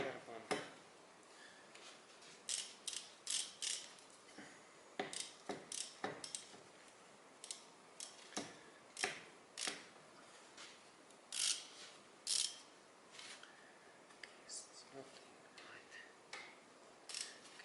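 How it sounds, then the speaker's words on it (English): A socket ratchet fastening bolts, with irregular bursts of crisp clicking close by, separated by short quiet pauses over a soft background. "socket, and I can fasten these bolts."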